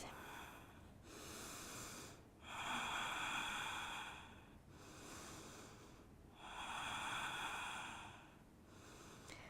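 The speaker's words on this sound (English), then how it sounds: "So stay here and breathe." Slow, deep breathing held through a yoga forearm stand inversion, long airy inhales and exhales alternating in a steady rhythm, close and clear with no talking.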